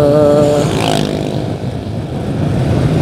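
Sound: motorcycle being ridden very slowly on a road

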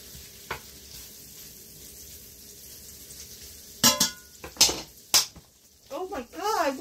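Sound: beans being stirred and frying in a pan

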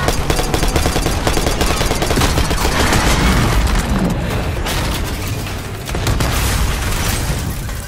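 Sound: gunfire in video game Call of Duty Black Ops 6

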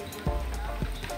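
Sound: rain falling outside a camper van

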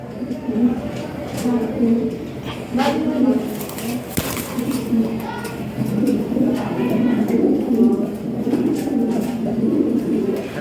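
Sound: Lahori Shirazi fancy pigeons cooing

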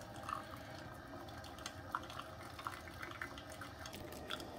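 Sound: Moccamaster coffee maker running Urnex Dezcal descaling solution through

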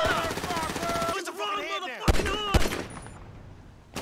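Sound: gunfire in the video game GTA 5

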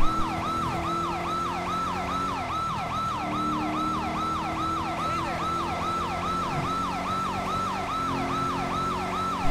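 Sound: police car siren in video game GTA V LSPDFR

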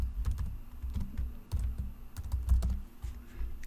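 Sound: typing an email address on a computer keyboard

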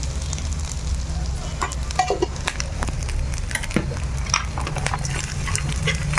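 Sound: ingredients frying in oil for moringa leaf pulihora

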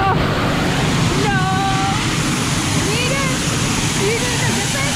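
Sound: Velo de la Novia waterfall, Ushuaia, Tierra del Fuego

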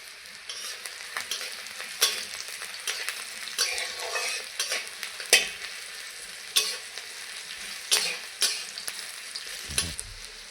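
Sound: frying garlic and green chili in hot oil

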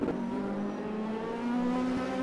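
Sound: race cars on track in sim racing video game

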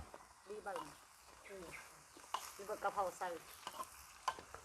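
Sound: stir-frying Mekong tilapia with holy basil

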